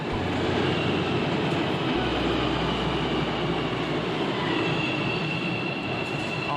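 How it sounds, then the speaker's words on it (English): A train rolls along its rails, a steady loud rumble with rattling wagon noise and faint wheel squeal carrying on throughout, no one speaking. "Oh, come on, man, stop the train."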